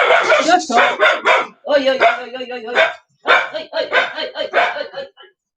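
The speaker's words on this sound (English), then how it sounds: "Anyone any tips on how to stop a dog being so barky dog at the minute?" A dog barks in loud, close bursts of repeated barks with a brief pause in the middle, sounding indoors during a casual morning chat.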